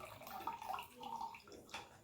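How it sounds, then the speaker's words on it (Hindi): Water is poured onto an absorbent pad, a soft trickling and gurgling stream with a few small splashes, close but faint. "तीन बार हम इसमें पानी डालेंगे।"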